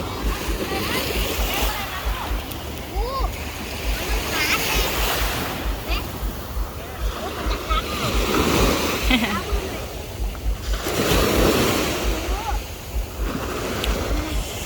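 Sea waves roll in and break on the shore at Bang Saen, Thailand, in repeated surges, with wind gusts and people talking nearby.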